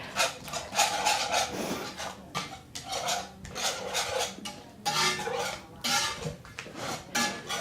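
A whisk beats eggs for a frittata in a bowl, rapid scraping and clinking strokes in uneven bursts, close and fairly loud with short pauses between rounds.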